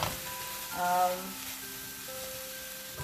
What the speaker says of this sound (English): I'm going to add the green peas and tomato and let it simmer for some more time